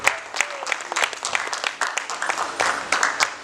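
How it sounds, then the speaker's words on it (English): Audience applause at a speech in Nigeria, a crowd clapping steadily with dense overlapping claps for a few seconds, some faint voices mixed in. "I think this is a great time to give ourselves a round of applause for just being women."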